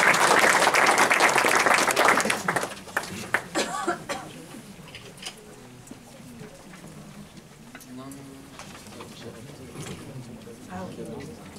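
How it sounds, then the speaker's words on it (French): Audience applause welcoming a speaker at a trading conference, a loud dense burst of clapping for about two seconds that quickly thins to scattered claps, followed by quieter room sound and voices. "on l'applaudit aussi chaleureusement"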